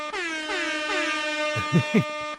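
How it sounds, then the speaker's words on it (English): A blaring air horn sounds a long sustained blast, then breaks into two short punchy honks near the end, loud and close with no talking. "No reason for this, but that's Airhorn."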